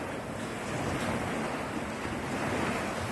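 Ocean waves wash onto the beachline of a farm lot in Banaybanay, Davao Oriental, a steady, fairly close surf roar mixed with wind buffeting, continuous and without voices.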